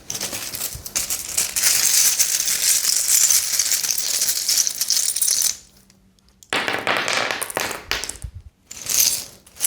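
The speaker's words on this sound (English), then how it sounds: "I'm going to use some charms and I will just cast them around" Small charms are cast across a table for a tarot card reading, making a busy rattling clatter of little metal pieces that tumbles continuously, then drops to near silence before returning in short, uneven bursts.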